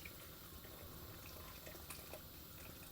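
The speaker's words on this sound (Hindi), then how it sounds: "अब इसमें गर्म पानी डाल दें।" Hot water is poured into a pot of cooking mutton masala, giving a faint, steady liquid splashing and rushing over a low background hiss.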